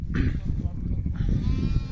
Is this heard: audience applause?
no